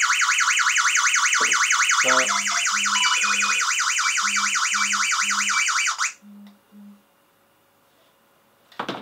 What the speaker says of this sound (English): House alarm